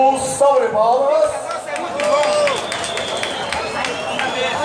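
A crowd at an outdoor moto rock festival cheers and claps after a live set, shouts and whistles rising at first, then a steady mass of applause under loud nearby voices.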